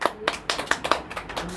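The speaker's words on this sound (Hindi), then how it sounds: "ताली बजा दो।" A class of students claps together in a classroom, giving a handful of distinct near, sharp claps in a loose rhythm over about a second and a half.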